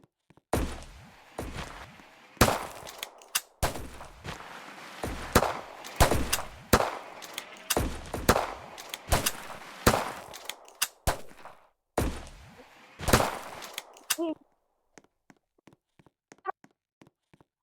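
Pistol gunshots in the video game Pistol Arena, a rapid irregular run of sharp, punchy shots and clacks over about fourteen seconds, then fainter scattered ticks and clicks trailing off.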